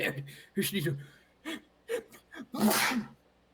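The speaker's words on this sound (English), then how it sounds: "I can sneeze in this one." A single sharp sneeze near the end, preceded by short gasping breaths and brief vocal sounds, close to the microphone.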